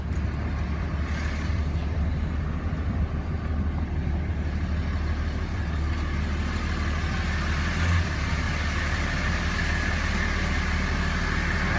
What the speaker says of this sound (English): Let's go pull the truck around back into the warehouse.